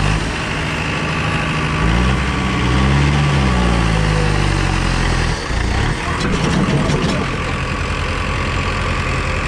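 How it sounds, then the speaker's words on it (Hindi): A Powertrac Euro 60 tractor engine runs steadily through a trial in a village setting, a loud, close diesel rumble with a brief dip in revving midway, and no clear talking over it. "ट्रायल लेकर देख रहे हैं ट्रैक्टर की"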